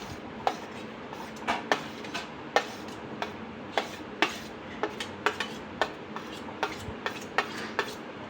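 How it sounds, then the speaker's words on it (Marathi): Chopped cucumber for a tomato and cucumber salad is spooned into a bowl, giving a steady series of light taps and clinks of a utensil against the dish. The sound is close and quiet, with no talking. "आता आपण काय करणार आहोत या बाऊलमध्ये काकडी काढून घेणार आहोत"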